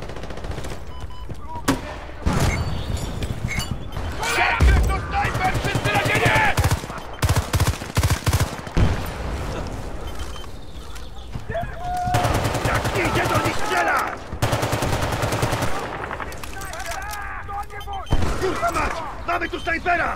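Dense gunfire in the video game Battlefield Bad Company 2 multiplayer, continuous automatic bursts and rattling shots layered throughout, loud and close, with in-game voices shouting over the battle.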